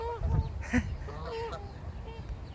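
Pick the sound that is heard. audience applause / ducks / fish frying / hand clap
ducks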